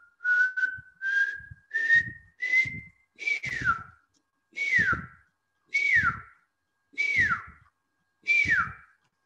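A person whistles an imitation of a pearl-spotted owlet call: a series of eight clear whistled notes, the first rising steadily and the later ones dropping at the end, evenly spaced with short pauses, close and alone.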